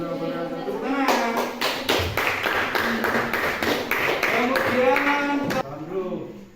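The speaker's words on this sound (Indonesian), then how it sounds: "Tepuk tangan." Applause from a university teacher-training audience, a steady patter of many hands clapping for several seconds, with voices mixed in underneath before it tapers off.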